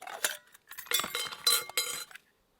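A metal camping cook pot, a mess tin whose lid doubles as a plate, clinks and rattles as it is handled, with several close, bright metallic knocks in quick bursts and no talking.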